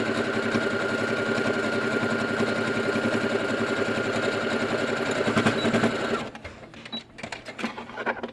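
A sewing machine runs steadily, stitching across a medical mask in a fast, even whirring rhythm for about six seconds before it stops and only faint fabric handling remains.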